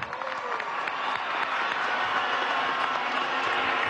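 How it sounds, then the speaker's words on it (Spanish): A crowd at a PSUV political rally in Táchira, Venezuela, gives sustained, steady applause that stays even throughout at a moderate distance. "Fuerte aplauso para Rosa Velosa, ejemplo entre nosotros los revolucionarios."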